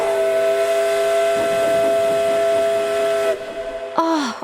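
A loud, sustained cartoon steam locomotive whistle blows for a few seconds with a hissing edge, cuts off, then gives a short sputtering toot, clogged with quarry gravel.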